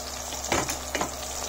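Pieces of jaggery drop into citron juice in a pan on a gas stove while making a sweet-sour pickle, two soft splashing sizzles over a steady low hiss.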